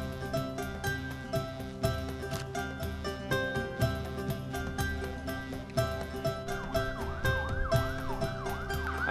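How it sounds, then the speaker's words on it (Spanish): Fire engine and ambulance sirens passing through a street in Washington DC, a loud wailing siren that rises and falls in repeated sweeps over busy traffic and rumbling engines, with no talking. "aparentemente vienen los bomberos, una ambulancia"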